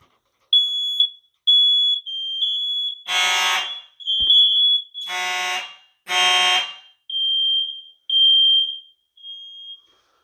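Simplex electro-mechanical fire alarm horn sounding during a walk test, with a steady high electronic tone pulsing in short bursts, broken by three loud, harsh blasts of the horn, each about a second long, close by and with no talking.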